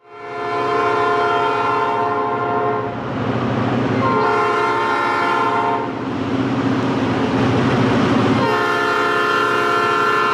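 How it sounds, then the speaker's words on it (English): Bessemer and Lake Erie locomotive 878 hauling an ore train south out of Conneaut, its horn blaring loud and close in long sustained blasts over the rumble of the engine and rolling cars. "we can see Bessemer 878 run an ore train south out of Conneaut."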